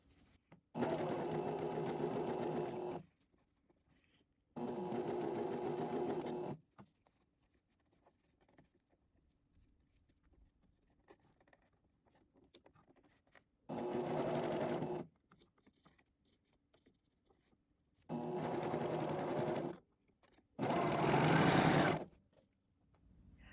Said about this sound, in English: I'm ready to sew the last seam, being careful not to get the ribbons stuck in the seam.